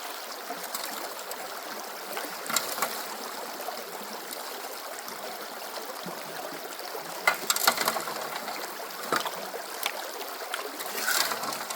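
Water flows steadily through a gold prospecting sluice box at a stream, a continuous soft rushing with occasional knocks and clicks of rocks and gear from close by.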